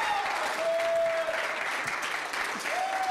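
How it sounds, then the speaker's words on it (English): Audience clapping to welcome a preacher at a Chi Alpha student gathering, a steady dense patter of hands that continues for about three seconds at moderate loudness with no talk over it. "that was the best forced clap I've ever heard in my life"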